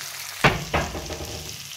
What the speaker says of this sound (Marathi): आता मस्त कांदा टोमॅटो परतला.